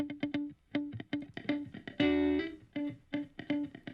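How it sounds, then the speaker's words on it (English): A percussive drum-and-bass loop treated with a Waves H-Reverb plugin set to a really short reverb with 10 ms pre-delay, punchy hits with a brief tail and a sustained tonal note midway. "just a really short reverb just to kind of give a little depth"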